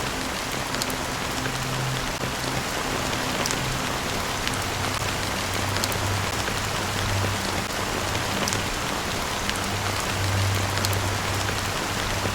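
Steady rain falls in Honkai: Star Rail, a dense, even hiss of drops on a surface with a soft low rumble underneath, continuous and fairly close throughout with no voices.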